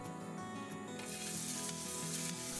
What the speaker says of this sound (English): Once the oil's hot, you can add your diced beef to the pan.